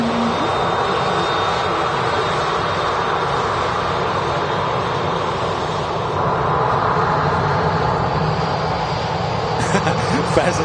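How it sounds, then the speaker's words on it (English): A Kuwait Airways Airbus A330 in retro livery lines up on runway 23 right at Manchester Airport, its engines giving a steady, loud broadband roar throughout, with a rising whine near the end. "lining up on 23 right, Kuwait Airways A330 in the stunning retro scheme"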